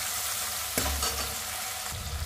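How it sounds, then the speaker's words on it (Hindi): Tomatoes sizzle in a hot pan while cooking lauki chana dal, a steady crackling hiss broken by a couple of scraping stirs, close and without any voices. "तो टमाटर का देने के बाद 2 मिनट हम और फ्राई करेंगे"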